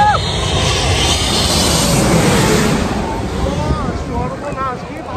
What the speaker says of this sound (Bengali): দূরে হচ্ছে এমিরেটসের বিমানটা আসতেছে